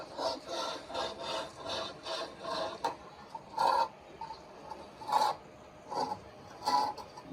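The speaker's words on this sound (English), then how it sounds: "Scrub like you mean it." Someone scrubs a stucco wall in steady back-and-forth strokes, a rhythmic rasping scrape repeating about every half second and then becoming more spaced out, moderately close with no talk.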